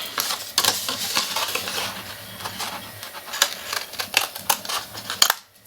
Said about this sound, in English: I'm going to just take my scissors and create a curve to cut off the extra piece of paper